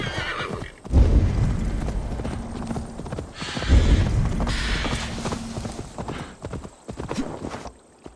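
Horse in the video game Assassin's Creed Valhalla, hooves clip-clopping with two loud whinnying neighs, close and fairly loud against a faint game background.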